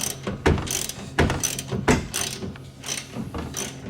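Wrench working loose the front shock nuts on a Honda Pioneer 700-4 during a front shock upgrade, heard as a few sharp ratcheting clicks and metallic clacks in irregular bursts, close by, with no talk.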